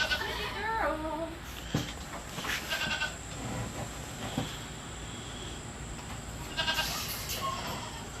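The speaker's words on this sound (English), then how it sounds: "this is our last goat to milk for this morning" Goats on a farm during morning milking, with a few scattered bleats near and far over steady background noise and brief clatter, no one talking.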